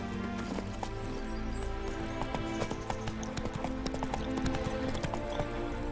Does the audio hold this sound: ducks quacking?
no